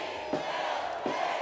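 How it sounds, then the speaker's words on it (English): Protest crowd chanting at a No Kings Day march to a community center, a dense mass of voices calling out in a steady rhythmic chant, with two sharper shouted beats rising above it. "Signs and chants filled the area."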